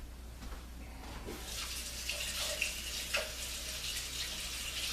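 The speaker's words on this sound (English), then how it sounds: "I'm going to just rinse off this." Water from a kitchen tap runs steadily while something is rinsed off after whipping cream, a continuous broadband splash with a few brief drips and clinks, close and alone without speech.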